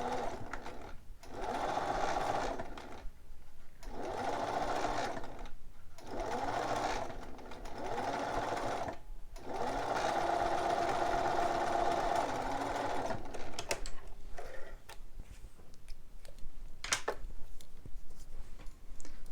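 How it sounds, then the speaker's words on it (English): A sewing machine stitches a backstitched seam on a romper mockup in long, steady whirring runs broken by short pauses, close and fairly loud, then stops near the end. "this time I am doing a back stitch so that that seam stays in and doesn't slip out."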